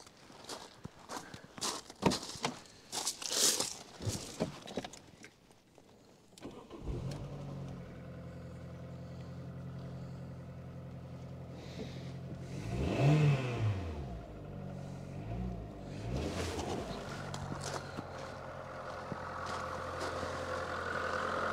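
Footsteps and clicks, then a cheap, old VW Polo's engine cranks and catches, settling into a low idle with a couple of revs rising and falling, nearby and alone.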